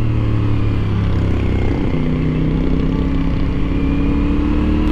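A CF Moto 450 SR motorcycle engine drones steadily and loudly on a highway, its note holding fairly even with a slight rise in pitch partway through, and no voices over it.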